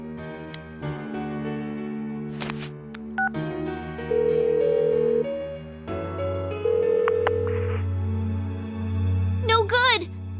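In Persona 4 Golden, a phone is dialed: a quick run of electronic keypad beeps, then steady sustained ringing tones over a soft looping game soundtrack, with a brief chirpy game effect at the end.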